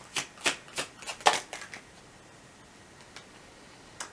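A tarot deck being shuffled: a run of crisp, quick card riffles and snaps, close and fairly faint, followed by quiet with a couple of isolated light taps.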